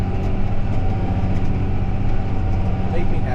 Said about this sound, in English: with my tractor grunting